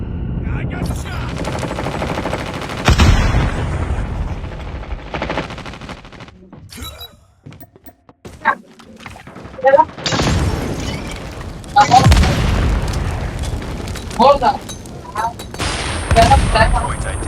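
Bursts of automatic gunfire and sharp single shots ring out in a shooter video game, with loud, clustered volleys separated by brief quiet gaps and game announcer voices between them.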